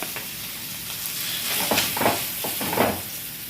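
Masala fish frying in a pan on a medium flame gives a steady close sizzle and hiss, with a few brief scraping stirs partway through and no voices.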